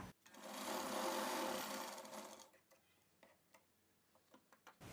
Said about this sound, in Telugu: రైట్ సైడ్ వైపుకి తిప్పి ఇక్కడ ఇలా మనం ఒక టాప్ స్టిచ్ వేసేసుకోవాలి.